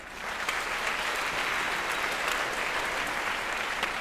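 A school auditorium audience at a speaking engagement breaks into sustained applause, a dense, even wash of clapping hands that holds steady for a few seconds.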